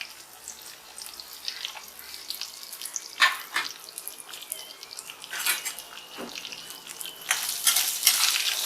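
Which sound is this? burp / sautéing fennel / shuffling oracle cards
sautéing fennel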